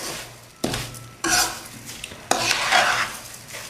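A spoon scrapes and stirs sugar through roasted semolina in a metal pan for halwa, giving a few loud, close scraping strokes with short pauses between them and no talk.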